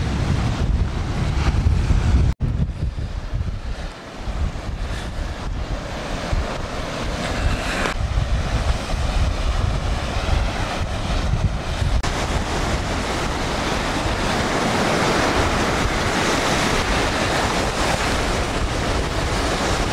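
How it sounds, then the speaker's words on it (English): Ocean waves crashing on the rocky coast at Hook Head, with strong wind buffeting the microphone: a continuous roar of surf with swelling wash and gusty rumble, loud and near, no talk. "you also always need to watch out for rogue waves that are going to come in"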